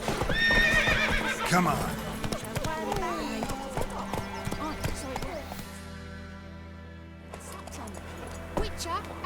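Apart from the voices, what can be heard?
Horse Roach galloping and neighing in video game The Witcher 3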